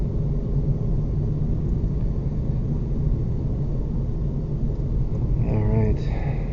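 A 2008 Honda Civic Si in 5th gear on a road drive, heard from inside the cabin: a steady, loud low rumble of engine and road noise throughout, with a brief rising tone near the end.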